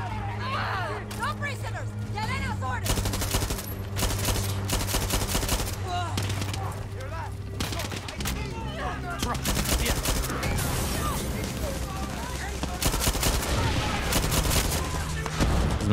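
Rapid automatic gunfire rattles through a Far Cry 6 firefight, dense bursts and single shots stacking close and loud, with a voice talking over the shooting throughout.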